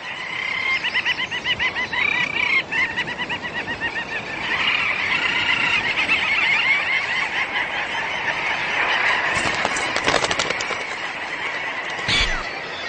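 A dense seabird breeding colony on coastal rock crevices and gravel, with puffins among the birds, gives off a continuous loud wash of overlapping honking and squealing calls that swells midway and carries throughout without any voices.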